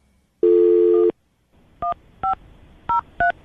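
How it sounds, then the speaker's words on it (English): Push-button telephone dialing a number: a long steady dial tone, then four short, evenly spaced DTMF key beeps, clear and close with no talking. "I'm going to dial the phone number right now."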